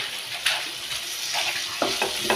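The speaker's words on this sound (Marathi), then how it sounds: "टमाटरला छानपैकी मऊ होऊ देणार तेलात" Tomatoes fry in hot oil for a flat bean curry, a close, steady sizzle with occasional stirring clatter and spatters.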